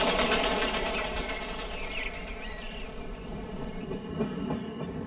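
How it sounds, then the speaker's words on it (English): An express train runs over Brunel's old bridge at high speed. Its steady rumble and rail clatter roll on continuously with a faint high whine above, heard close and loud with no voices. "carrying express trains travelling at 200 kilometres per hour"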